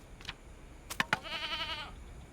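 In the survival video game Card Survival: Tropical Island, a goat gives a single wavering, nasal bleat lasting about half a second. Two sharp clicks come just before it, and no one speaks.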